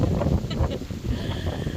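Continuous blustery wind buffets the microphone with low rumbling gusts throughout, loud and close, with no clear speech, on a cloudy day at a resort in Mauritius.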